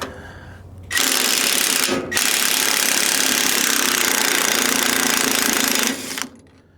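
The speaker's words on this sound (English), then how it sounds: "I'm going to take that off, these two bolts that hold it all on." A power tool rattles loudly and continuously as bolts are removed from a trailer coupler, with a harsh buzzing burst that stops briefly, then runs for about four more seconds before cutting off.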